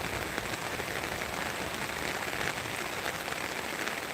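Rain falls in a steady, even hiss of drops on surfaces, faint and constant, with no voices.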